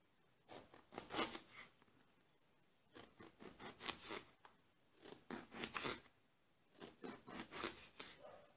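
Knife slicing eggplant into 1 cm rounds on a cutting board, a series of close, crisp crunching cuts that come in short bursts with brief pauses between them.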